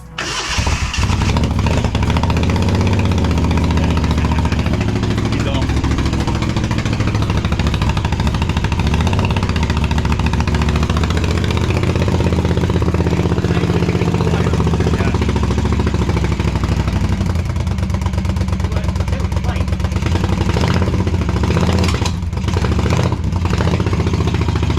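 A motorcycle engine idles loudly and close, a steady rumbling throb lasting throughout with slight rises in revs, while people talk faintly under it.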